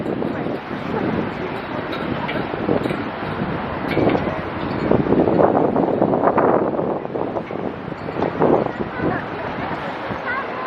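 Gusty wind buffets the microphone with a steady low rumble, and faint voices and street bustle sit underneath on Fifth Avenue.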